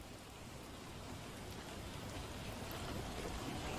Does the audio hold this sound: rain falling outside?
yes